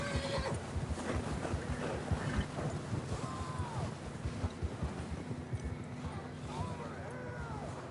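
Horse whinnies in Red Dead Redemption 2 rise and fall over continuous wind and a busy outdoor rumble, with faint hoof and movement noise throughout.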